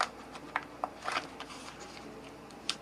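Paper word cutout being peeled and pulled free from a photo book page, a few quiet crisp rustles and small tearing crackles close by, with brief pauses between them.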